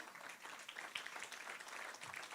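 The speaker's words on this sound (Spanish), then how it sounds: "Dale una ofrenda de palmas" A congregation at a church sermon gives a round of applause, faint and distant, with a steady crackle of many hands clapping for a couple of seconds.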